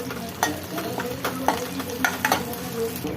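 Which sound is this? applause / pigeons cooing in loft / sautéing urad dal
sautéing urad dal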